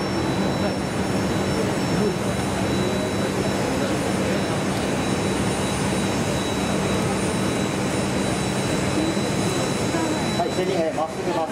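A T-400 jet aircraft taxiing on the ground produces a loud, continuous engine roar with a steady whine that fills the full eleven seconds, heard up close from a flight demonstration crowd, with some voices faintly mixed in.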